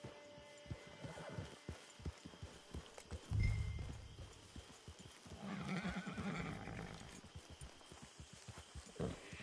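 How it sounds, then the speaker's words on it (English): In the video game Red Dead Redemption 2, a horse walks with steady, quiet clip-clopping hooves and gives a brief snort or whinny partway through, in an outdoor camp setting. "Get your horse."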